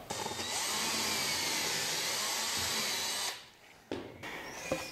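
A power drill bores a hole into a cabinet panel with a depth stop fitted, a loud steady whine for about three seconds, then it cuts off, followed by a brief restart and a few clicks.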